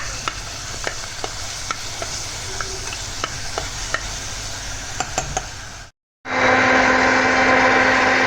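Garlic goes into hot country ghee in a pot: a soft sizzle with scattered clicks of stirring, then a brief silence followed by a louder, steady hiss of frying. No talking.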